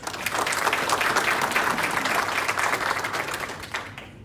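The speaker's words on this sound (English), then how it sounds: "y'all give them another round of applause." A church congregation applauds in a dense, continuous wash of clapping that holds steady for several seconds before gradually thinning and tapering off near the end.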